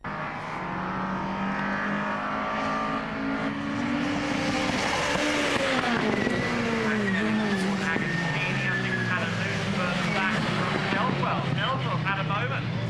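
Ford Fiesta race cars circulating at Snetterton, engines droning loud and close with rising and falling pitch as they pass, under continuous race commentary.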